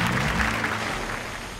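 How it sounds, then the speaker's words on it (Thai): Audience applause at an innovation awards event for an electronic fruit-harvesting device: a dense, steady wash of clapping from a crowd, filling the short stretch at even loudness. "ขอเสียงปรบมือด้วยครับ"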